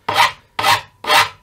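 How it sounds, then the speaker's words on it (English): A hand rasp files the wooden body of a semi-hollow Stratocaster-style guitar, three long scraping strokes in a steady rhythm, close and loud with no talk. "So we have to take a rasp and try to match everything up"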